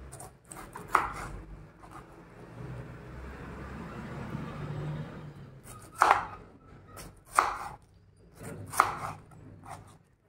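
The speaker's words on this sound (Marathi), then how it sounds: "अर्धा पायनॅपलचे बारीक बारीक तुकडे करून" Half a pineapple is cut into small pieces on a board: four sharp, well-spaced knife chops over a soft background hiss, close by and with no one speaking.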